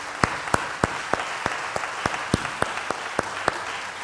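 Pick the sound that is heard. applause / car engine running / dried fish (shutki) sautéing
applause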